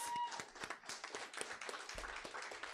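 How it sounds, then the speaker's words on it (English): A standing audience at a morning breakfast club gathering claps for the field representatives, giving faint, dense applause that carries on throughout. "we can give them a round of applause"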